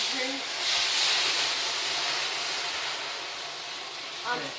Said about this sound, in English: And what this is actually going to do is create a lot of steam